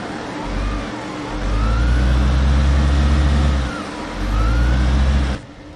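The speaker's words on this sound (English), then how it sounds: "The engine sounds nice." CityBus M301 bus engine in the OMSI 2 driving simulator, a mid-pitched diesel hum that revs up and settles twice, steady and close with no talk over it.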